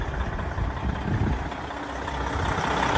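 A 12-litre Detroit diesel engine idles steadily up close, a continuous low rumbling churn with no speech over it.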